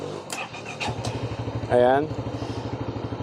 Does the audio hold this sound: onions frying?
no